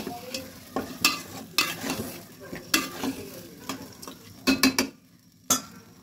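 Bottle gourd greens with flat beans and potatoes sizzle in a pan while a spatula stirs and scrapes in repeated close strokes, with clinks against the pan between bursts.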